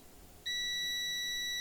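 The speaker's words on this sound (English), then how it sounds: "It's beeping, yeah?" A continuity tester probing ground pins on an ASUS ROG Strix G17 laptop motherboard near the EC controller gives a sudden steady high-pitched electronic beep that starts abruptly and holds continuously and loudly.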